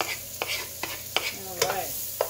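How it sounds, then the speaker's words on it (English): Onions sauté in warm olive oil for fried rice, with a soft sizzle under repeated utensil knocks and scrapes against the pan, close and without voices. "pour in about a tablespoon of olive oil along with that. Get that warmed up too, mixed together. We're gonna pop in our onions, get those sauteing."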